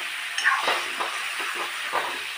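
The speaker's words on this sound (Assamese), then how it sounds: "অকণমান মাংসখিনি ভাজিব" Meat fries in a pan, a continuous close sizzle with a few brief scraping stirs and soft bursts of hiss.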